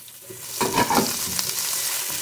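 Crushed garlic and ginger hit hot oil with a sudden loud sizzle that swells and then settles into a steady close crackle.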